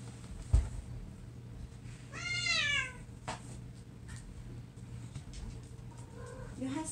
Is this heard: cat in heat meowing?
yes